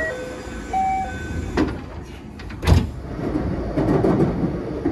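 Train doors slide shut with a thud amid rumbling carriage noise and a short electronic chime on the JR Osaka Loop Line at Fukushima station, followed by the train starting to move.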